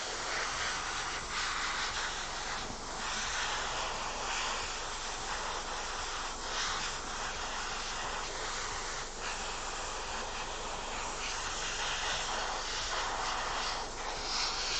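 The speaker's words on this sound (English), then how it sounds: "Quite an efficient way of painting with an airbrush" An airbrush spraying paint onto an Adeptus Mechanicus Kastelan robot miniature, a continuous loud airy hiss held steady close by with faint fluctuations.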